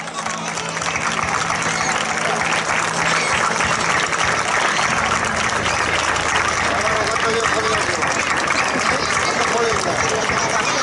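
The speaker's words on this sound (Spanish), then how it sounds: "Un fuerte aplauso para él." A large crowd at a town festival opening speech claps and cheers continuously, a dense roar of applause with voices mixed in, holding steady throughout.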